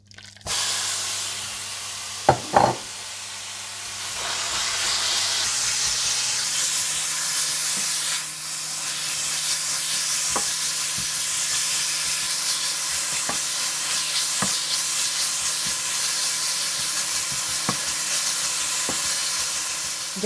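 Chicken tikka filling sizzles steadily as it fries in a pan, a continuous close hiss with periodic clicks of a spoon stirring and scraping, and no voices.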